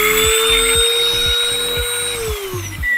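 Parkside Performance PPFBSA 12 A1, a 12 V cordless straight grinder rated 10,000 to 33,000 rpm, running alone with a steady, loud, high-pitched whine whose pitch sags slightly near the end.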